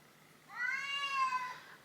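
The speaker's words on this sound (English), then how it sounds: "Anyone else's cat makes so strange noises." A pet cat lets out a single drawn-out, wavering meow with an odd warbling quality, close and clear against a quiet room.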